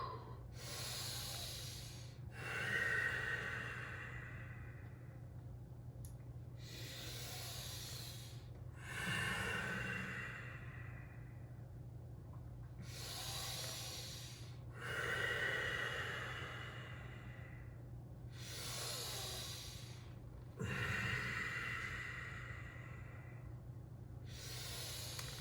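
Slow, deep breathing during a yin yoga stretch, long airy inhales and exhales repeating every few seconds against a low steady hum, close and soft, without speech.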